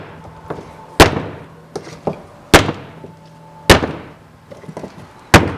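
An axe strikes a Google Pixel phone several times, hard, sharp impacts at uneven intervals, loud and close, with smaller knocks and rattles between them.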